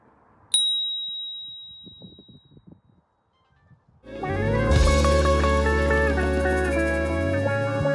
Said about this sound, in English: you see my new bell?